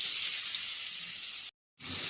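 Boiled potatoes drop into hot oil in a wok seasoned with bay leaf and radhuni, giving a loud, bright steady sizzle that cuts out for a moment and then resumes.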